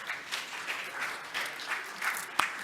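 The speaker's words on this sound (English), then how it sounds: "please welcome Professor Kwak with a warm round of applause" Applause greeting a moderator at an international development conference session in Seoul, faint and distant, a thin patter of clapping with soft pulses and one sharper clap near the end.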